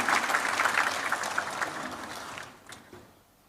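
Applause for the speakers at the launch of the book "Visioning Indonesia": dense clapping from an indoor crowd that starts full and steadily thins before dying away.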